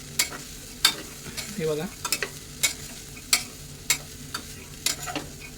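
Ghevda flat beans are stirred and fried in a pan, with regular scraping strokes of a spatula over a soft sizzle, close and clear, and a brief spoken word.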